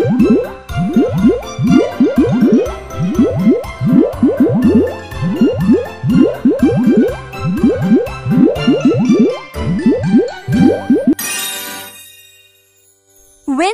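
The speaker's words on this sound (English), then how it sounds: "Cleanse the teeth." Cartoon teeth-cleaning effects in a Pororo dentist video game, a fast rhythmic run of squishy, boingy scrubbing blips repeating over background music, then a bright tinkling sparkle at the end.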